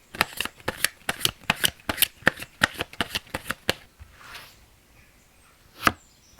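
Tarot cards are shuffled in a quick run of about a dozen crisp, close riffling snaps. Then comes a brief soft rustle, a pause, and one last sharp card tap.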